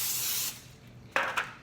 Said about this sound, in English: So I'm going to spray it down.